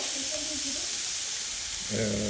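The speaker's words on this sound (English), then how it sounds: "We're putting the bulgogi on the grill." Thinly sliced ribeye bulgogi marinated in soy sauce and sugar sizzling loudly on a Korean restaurant grill, a steady close hiss with brief voices talking over it.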